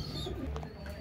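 Young Oman Teddy breed pigeons coo softly and close by, with a low throaty murmur under a steady background hum for about a second.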